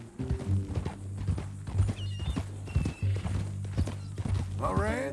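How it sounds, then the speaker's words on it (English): Horse hooves clip-clop in Red Dead Redemption 2, a steady rhythmic walking gait of hollow knocks under a low hum, with a horse whinny rising near the end and speech in between. "That new horse?"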